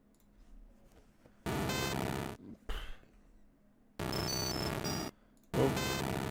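Several harsh, buzzy electronic cries of the Pokémon Magnemite in short bursts, separated by brief silences and a low thump, a synthesized creature call from a game.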